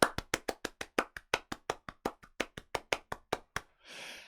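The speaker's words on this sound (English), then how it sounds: "please join me in giving Angel a huge round the world round of applause." Close, sharp claps from a single pair of hands sound about eighteen times in a quick, steady beat during an online tech conference talk, followed by a brief soft rush of noise.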